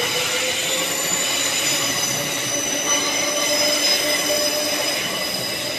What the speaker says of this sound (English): Good to see such frequent train services coming through, especially on a Saturday.